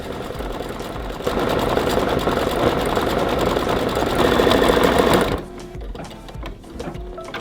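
An embroidery machine stitches the nose of an appliqué design, a steady, loud mechanical whir with rapid needle pulses that drops to a lighter, quieter run near the end.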